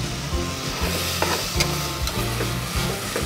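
Capsicum fries with garlic and ginger in a pan for methi corn pulao, making a close, steady sizzle broken by several brief scraping and clicking stirs.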